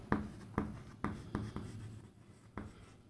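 Chalk or marker strokes on a board during a maths lesson on quadratic equations, a series of six sharp taps and scrapes at an uneven pace, close and fairly quiet, with no talking.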